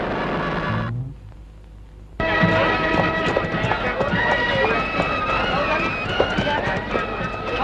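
Horses run with steady hoofbeats under a busy, loud mix of voices and commotion in a film scene, after a brief quieter gap; no clear neighing stands out.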